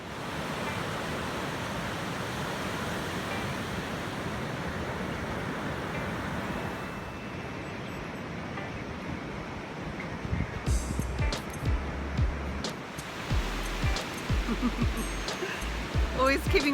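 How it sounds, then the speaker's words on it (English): Ocean waves break and wash along a beach in a steady, broad roar of surf, close and continuous, with louder surges near the end and a person speaking over it. "if you can see behind me and you watch the waves crashing"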